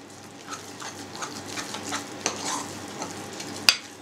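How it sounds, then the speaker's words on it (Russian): New York cheesecake batter of cream cheese with grated lemon zest is stirred, giving a faint, steady, close mixing texture with one brief sharp knock near the end. No voices. "Стерли цедру. Хорошенько опять все перемешиваем."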